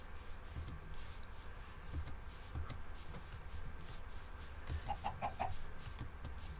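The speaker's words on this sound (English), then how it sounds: "Says a chicken." Minecraft chicken clucking softly in short, scattered bursts over a quiet, rustling game background, faint and somewhat distant, with no speech.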